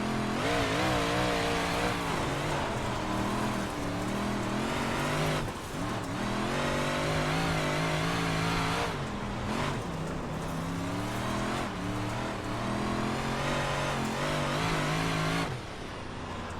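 Dirt race car engine in iRacing, running through a slick line, a loud continuous roar with shifting revs. The pitch dips and climbs briefly as the car lifts off and picks up speed again, with no talk over it.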